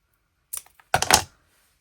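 Close scissors trim craft material for a Christmas gift, with one short snip followed a moment later by a louder burst of quick cuts, then silence and no talking.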